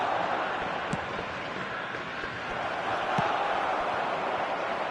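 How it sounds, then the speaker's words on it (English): Crowd noise from an eFootball 2027 match in a Japanese online event featuring FC Tokyo, a steady broad murmur of stadium spectators running throughout with a couple of brief louder swells. "the crowd are reacting to that now"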